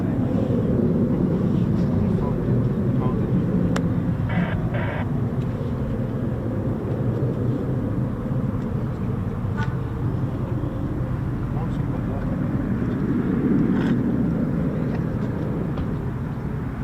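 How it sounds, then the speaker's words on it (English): A US Air Force F-16 of the 555th 'Triple Nickel' Fighter Squadron, based at Aviano in Italy, flying, heard as a steady broad rumble throughout with faint voices beneath. "That's the Aviano F-16, the triple nickel 555th fighter squadron."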